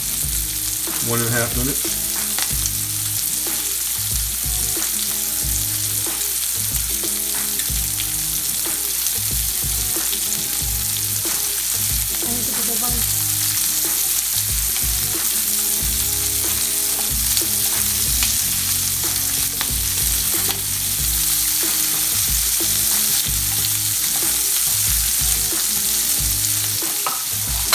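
Shrimp searing in a pan for shrimp fried rice, a loud continuous sizzle with stirring and spatula movement throughout; a voice speaks briefly.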